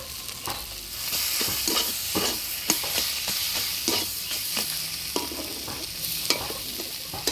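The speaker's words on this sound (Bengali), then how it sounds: "শাক ভাজা হয়ে আসছে এবার এর মধ্যে সামান্য চিনি দিয়ে নাড়াচাড়া করে নামিয়ে দেবো" Red amaranth leaves cooking with papaya fry in oil in a pan, with a steady sizzle broken by repeated scraping, clattering stir strokes throughout; no one speaks.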